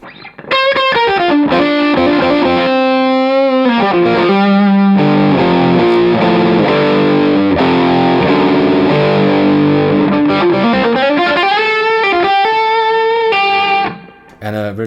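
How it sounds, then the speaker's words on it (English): Overdriven electric guitar on the neck pickup through a JAM Pedals Double Dreamer overdrive, with a smooth, flute-like tone: a loud, sustained lead of bending notes and a dense chordal swell, cutting off near the end. "So you can get this flute-like sounds on the neck pickup."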